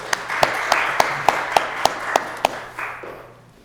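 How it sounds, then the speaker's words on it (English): A small audience clapping for Charlie after a career talk by a tech lawyer: a short run of crisp, evenly spaced claps, fairly close and loud, tapering off into a softer patter. "So round of applause for Charlie, paying it forward."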